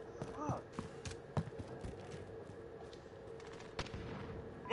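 Gunfire in a Call of Duty match on PS5, scattered sharp shots popping amid game sound effects and a steady background hum, fairly distant and moderately loud, with a few brief bursts.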